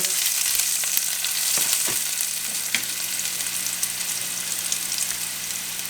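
Largemouth bass fillets frying in a pan with onions make a steady, close sizzle of hot oil, dense and even throughout with a few faint pops and taps and no voices.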